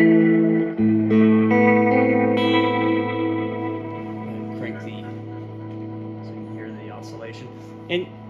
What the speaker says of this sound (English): And I've got the reverberation crank, so it'll oscillate.